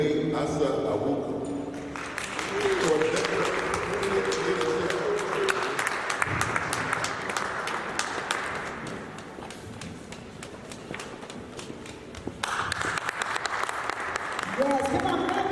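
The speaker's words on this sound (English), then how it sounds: "come on, clap it up" Audience applause at a Ghana Independence flag raising ceremony, sustained clapping from a crowd across most of the stretch, with a voice speaking over it near the start and end.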